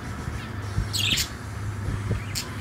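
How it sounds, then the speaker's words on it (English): A pet parakeet chirps in short, bright bursts, a couple of quick calls close by over a low indoor hum. "so it's it's parakeet"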